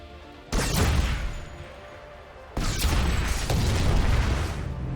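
A vehicle-mounted gun fires in Planetside 2 in two loud, sustained bursts of rapid booming shots, separated by a short quieter pause while it cools down.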